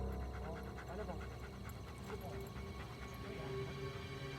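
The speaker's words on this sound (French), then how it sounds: "Le chien flaire une odeur suspecte et se dirige vers un petit bâtiment en bois sur la propriété." A police dog pants and sniffs rhythmically, close and steady, while a voice narrates over the top with a low hum underneath.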